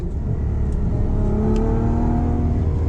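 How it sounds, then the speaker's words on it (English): A Ferrari FF with a 6.3-liter V12 accelerating, its engine roaring loud and close with a steady rising pitch and a continuous heavy drone as revs climb. "I want to do a little acceleration here."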